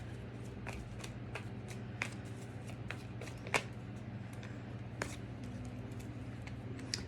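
Tarot cards shuffled by hand in a steady run of soft riffling and slapping, with sharper card snaps every second or so over a low steady hum, close and fairly quiet.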